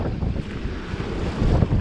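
Strong wind roars and buffets the microphone in a steady, rumbling rush with no voices, aboard a boat.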